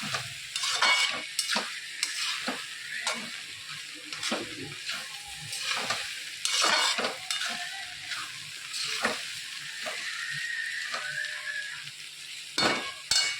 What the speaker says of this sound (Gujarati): અવશ્ય પાણી નાખીને જ તમારે આ રીતે વઘારવાના